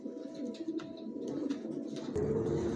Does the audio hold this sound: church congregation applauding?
no